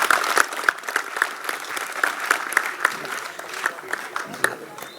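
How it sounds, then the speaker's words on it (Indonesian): Audience applause at an anniversary celebration of a Javanese arts studio, steady dense clapping sustained for several seconds with a few people speaking over it. "Tepuk tangan semuanya."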